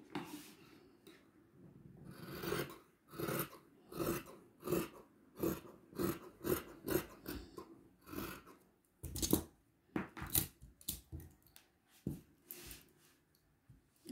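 Scissors snip through stretchy fabric in a rapid run of short rhythmic cuts, then slower, more spaced snips, close up and quiet with no talking.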